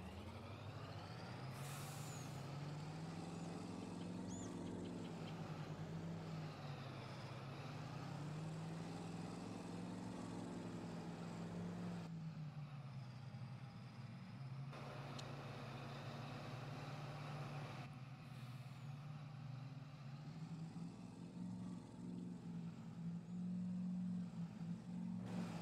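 A tractor or truck engine in Farming Simulator drones steadily at low pitch as the throttle is pressed, rising and falling in revs with hissing air-brake bursts, continuous and fairly loud with no talk.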